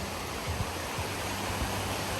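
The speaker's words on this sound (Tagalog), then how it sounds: "Tingnan nyo yung ilog guys." A river in the Hinaguan area of the province rushes as a steady, broad, loud wash of noise, with no talk over it.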